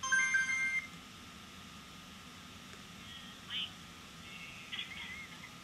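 A Verizon phone ringtone plays as short electronic beeping tones at the start, followed by quieter scattered chimes against a low background hiss.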